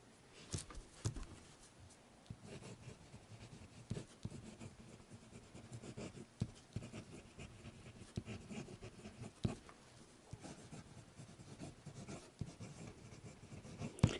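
Fountain pen nib writes on paper at close range, a quiet continuous scratch with irregular stroke taps and pauses between letters, no talking.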